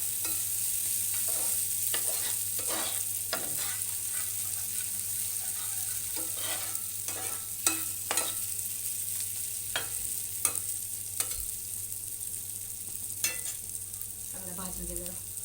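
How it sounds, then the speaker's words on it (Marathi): Masala roasts and fries in a pan with a steady sizzle, broken by frequent scraping taps of a spatula stirring it, close and moderately loud throughout. "चांगला मसाला भाजतोय बघा"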